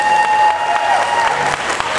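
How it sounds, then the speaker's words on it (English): Convention audience clapping for a contestant at an anime match game panel, a loud, dense burst of applause held throughout, close to the microphone. "Let's give Brian a round of applause"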